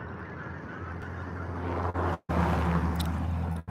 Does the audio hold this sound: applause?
no